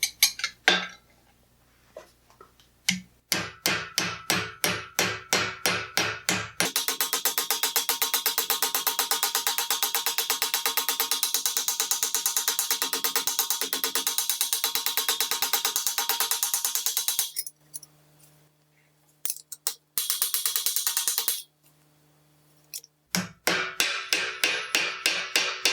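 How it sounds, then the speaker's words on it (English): A planishing hammer strikes the rolled edge of 18 gauge steel armour in quick, ringing metallic bursts, with long sustained runs of rapid blows broken by short pauses, close and loud. "go in with a planishing hammer and sharpen up the line"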